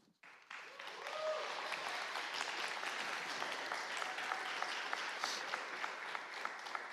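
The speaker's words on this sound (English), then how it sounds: "it's always worrying when people clap before you start" An audience at a lecture on neoliberalism breaks into applause for an arriving speaker, with a dense, sustained round of clapping that starts abruptly and carries on evenly throughout.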